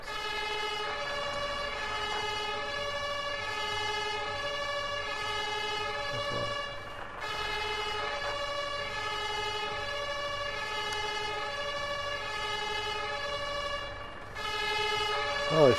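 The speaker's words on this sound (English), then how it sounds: "Still not a fan of this British siren." Continuous British fire engine siren from the firefighting game Firefighters: The Simulation, wailing in steady repeating two-tone cycles at a constant loud level throughout, with a brief engine rumble under it.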